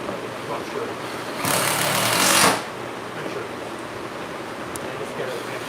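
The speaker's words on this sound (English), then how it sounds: "these are temporary fasteners going in right now" Temporary fasteners being driven into a wooden boat under construction: one sharp, loud mechanical whir lasting about a second stands out against a quieter workshop background.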